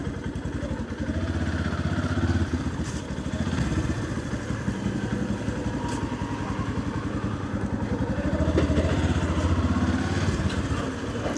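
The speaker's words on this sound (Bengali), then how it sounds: "বাইক তো আসতেছে" A motorcycle engine putters steadily nearby on a Dhaka road, a rattling, mid-pitched drone that swells slightly as it moves past.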